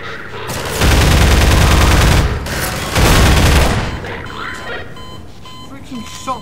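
Heavy shotgun and gunfire blasts in Half-Life 2 played in Garry's Mod, two long loud roaring bursts close together, then fading into quieter scattered game sounds and faint beeps.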